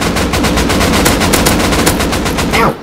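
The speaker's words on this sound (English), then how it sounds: "They're shooting at us?" Rapid automatic gunfire in the Rust survival game, a loud sustained burst of closely spaced shots over about three seconds.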